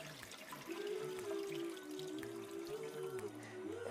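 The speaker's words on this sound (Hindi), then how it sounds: "नया पानी डाल रहा हूँ." Fresh water pours into a cooking pot for haleem, a quiet steady stream with a ringing gurgle that shifts in pitch as the pot fills.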